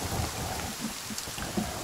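Steady rain falling in the video game The Forest, a constant broadband hiss of moderate loudness with no talk over it.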